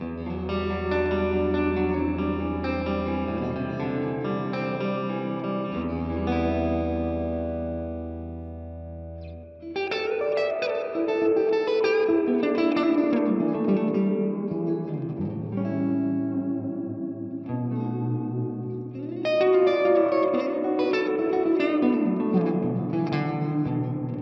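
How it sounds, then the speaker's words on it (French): An electric guitar plays sustained chords and picked phrases through a spring reverb pedal. The tone is loud and distorted, with long washy tails and no talking. "Donc là, la reverb à ressort"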